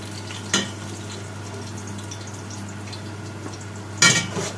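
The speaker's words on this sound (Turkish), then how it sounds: "mecbur bundan yağ ile kızartıyoruz arkadaşlar" Soft, steady sizzle of eggplant frying in oil under a low electrical hum, with two sharp clinks of a utensil against the pan.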